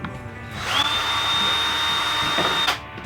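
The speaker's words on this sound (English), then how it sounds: "Drill. Pass me the drill." A power drill on a yacht in Trinidad whirs up, holds a steady high whine for about two seconds, then spins down; close and loud.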